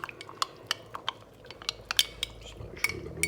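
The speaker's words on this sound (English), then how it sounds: "Just make sure we've got it all mixed before I start pouring." A utensil stirs malt vinegar and corn flour paste in a dish, making quiet repeated clinks and scrapes against the dish at an uneven, steady pace.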